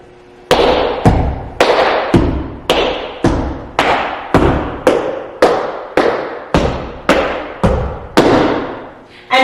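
Tap dance steps on a hard floor, with scuffs, heels, spanks, shuffles and a stamp: a steady run of about fifteen sharp, loud, close percussive strikes in an even rhythm.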